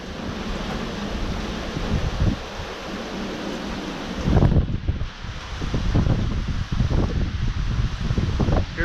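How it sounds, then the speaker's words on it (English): Severe storm winds of about 80 mph gusting outdoors, a loud, continuous roar with mic buffeting that surges into stronger rushing gusts partway through, no talking. "That could very well be 80 mile per hour wind."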